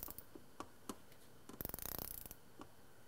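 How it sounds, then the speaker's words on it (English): A wrench works a water pump bolt in an aluminum housing, giving sparse faint metallic clicks and then a short rapid ratcheting burst as the direction reverses, close and quiet with no talking. "Now I'm going to reverse direction on my wrench, and I'm going to tighten it back down."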